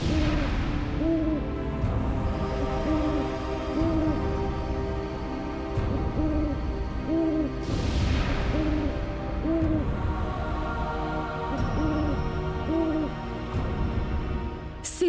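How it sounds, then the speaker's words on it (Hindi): Two owls hooting in a forest, their repeated hoots trading back and forth at a steady rhythm, loud and close over a dense droning background with occasional swelling effects. "ये दो उल्लू इस तरह आवाज क्यों कर रहे हैं?"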